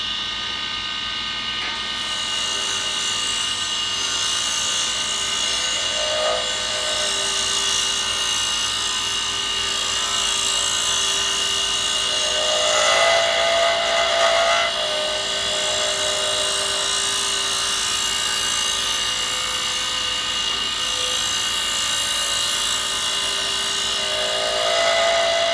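A skew chisel cuts a pen blank spinning on a wood lathe, making a steady high-pitched whine with rising and falling scraping tones as the edge rides the wood. It runs loud and continuous with no talking.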